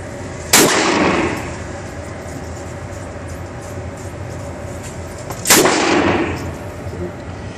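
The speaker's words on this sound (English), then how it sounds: "And that's the first 10 rounds right there at the range, the indoor range at Take Aim in Bellevue, Bob and Mary Whalen" Two sharp, loud rifle shots from an Arsenal SAM7R at an indoor range, a few seconds apart, each with a booming echo over steady ventilation hum.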